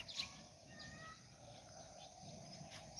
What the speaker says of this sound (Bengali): সকালের পরিবেশ পাখিগুলি ডাকতেছে ঘুঘু পাখিগুলি